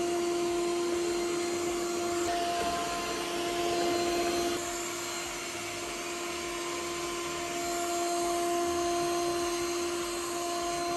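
A Yeedi Vac Max robot vacuum cleaner runs steadily nearby, giving a continuous whirring motor drone with a high tonal whine, its pitch shifting slightly partway through as it moves.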